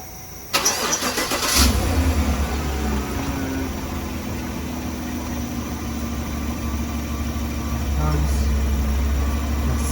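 A 2020 Chevrolet Suburban engine cranks and fires up near the start, then settles into a steady, close, continuous idle running to the end, with people talking over it during a transmission fluid exchange.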